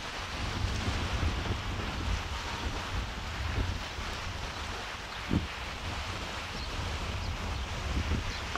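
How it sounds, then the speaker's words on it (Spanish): Sea murmuring steadily in the background on the Mallorca coast at Ses Covetes, a broad continuous wash mixed with wind buffeting the microphone, with one brief knock midway. "susurro del mar al fondo."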